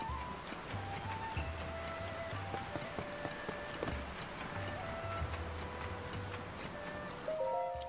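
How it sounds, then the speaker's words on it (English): Steady rain falling in Zelda: Tears of the Kingdom, a dense, even patter with scattered droplet ticks and a low looping tone beneath, with no talking. "Rain, as always."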